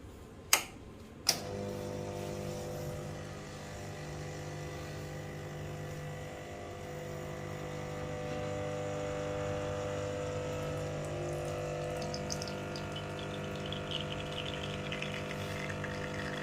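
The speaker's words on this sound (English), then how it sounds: "Okay, let's pour a shot." A Lelit Mara X espresso machine pulls a shot: two sharp clicks, then the steady buzzing hum of its vibratory pump with liquid trickling, continuing close and even throughout.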